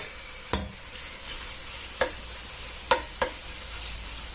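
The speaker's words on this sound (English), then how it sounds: "I'll gently fry it there until it's sort of brownish" Pork chunks, chorizo and garlic frying gently in a pan, a steady low sizzle broken by a few sharp scrapes and clacks of stirring, close and alone with no talking.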